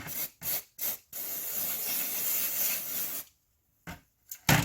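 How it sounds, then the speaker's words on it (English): Several short hissing bursts of aerosol carburetor cleaner spray on a lawnmower, then one long continuous spray, followed by a pause and a few more quick sprays, close and steady. "just kind of spray this all down with some carb cleaner"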